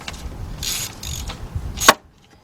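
A hand ratchet working on bolts on a 2007 Nissan Murano 3.5 engine, heard as a few quick close ratcheting bursts ending in a sharp click before silence.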